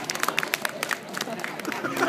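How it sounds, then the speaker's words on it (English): Audience applause for a blindfolded juggler's live stage trick, a dense patter of many hands clapping at close to medium range, steady and continuous for a couple of seconds with crowd murmur underneath. "In fact, clap now."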